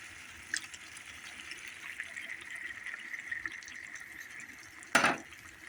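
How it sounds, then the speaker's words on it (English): Quiet wet trickling and splashing as diced tomatoes pour into a pot of stew, with a sharper splatter near the end. "we're going to pour in our diced tomatoes."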